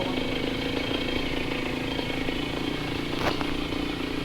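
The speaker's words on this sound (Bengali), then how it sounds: "আর এই মোটরসাইকেলটা হলো 100 সিসি" A Honda H100S 100cc motorcycle idles nearby, its engine holding an even, continuous hum with a faint ticking texture and a brief clank near the end.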